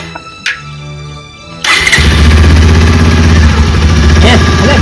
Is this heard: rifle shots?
no